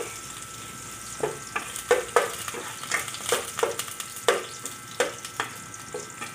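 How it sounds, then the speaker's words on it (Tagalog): Garlic frying in a pan until browned before mussels are added, a steady sizzle with a rhythmic series of close scraping and clinking stirs. "Bawang natin. Isahin lang po natin. Ayan. Ayan. Pa-brown natin ng konti."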